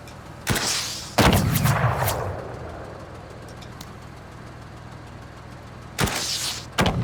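Rocket launcher blasts in the Ironman game: several sharp, loud broadband bursts, a pair early on with a long decaying rumble trailing off, then two more sudden blasts near the end.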